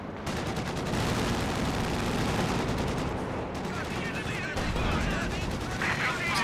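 Dishka heavy machine gun fire in Company of Heroes 2, a dense, continuous burst of rapid gunfire mixed with battlefield noise, loud and sustained throughout with only brief dips.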